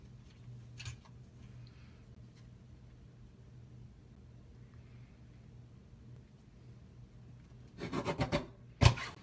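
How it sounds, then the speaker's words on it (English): A paper trimmer slices cardstock: a quiet stretch of faint handling, then a short run of close, rasping cutting strokes and a final sharp snap. "I'm matching up the edges of the cardstock to the cutting edge of my trimmer."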